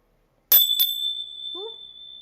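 Small hand bells rung to clear energy: two quick bright strikes, then a clear tone ringing on and slowly fading, close and alone in an otherwise quiet room.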